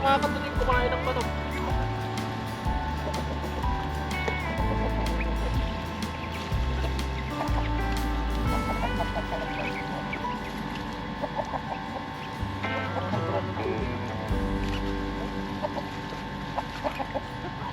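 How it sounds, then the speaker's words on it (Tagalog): Backyard chickens clucking while they eat, a steady mix of close clucks and rooster-like calls with scattered pecking taps, and a person speaks intermittently over the flock. "Yung manok mga katunying kumain ng manok."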